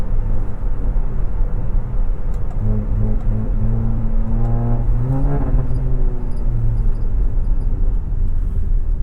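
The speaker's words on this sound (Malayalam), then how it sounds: "അതാണ് വണ്ടിയുടെ സൗണ്ട് കേട്ടോ." A stage 2 Kia Seltos with a full-system valvetronic exhaust idles in a deep, steady rumble, then climbs through one rising rev midway before settling back to a low drone.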